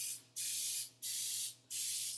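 A cooking spray can hisses into muffin cups for pumpkin muffins, four short, even bursts in quick succession with brief pauses between, close and clear.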